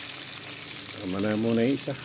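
Milkfish (bangus) fries in a pan with a constant close hiss and sizzle, while a voice speaks briefly over it.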